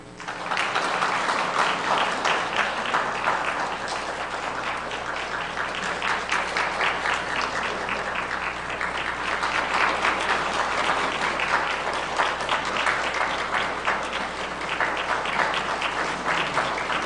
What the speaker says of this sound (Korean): 그렇게 박수 칠 일은 아닙니다.